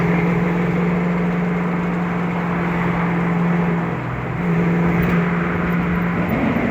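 A 1993 Mustang Cobra replica engine runs steadily with a low, droning hum that dips briefly partway through, then settles back to the same rough idle, struggling to hold idle.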